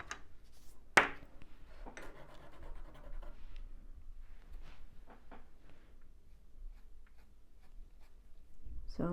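A rubber eraser scratches lightly over a pencil drawing of a Cavalier King Charles dog's ear fur, in short soft scrubbing strokes with a few sharper taps, close and quiet.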